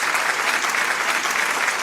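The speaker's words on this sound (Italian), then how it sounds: "Facciamo un forte applauso." A studio audience on an Italian radio and TV show claps steadily and loudly throughout, a dense, even wash of applause with no voices over it.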